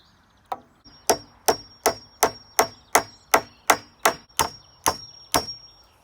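Nails being hammered through timber to lock together the frame of a mini poly tunnel: about a dozen sharp, evenly spaced wooden blows, loud and close, with no talking.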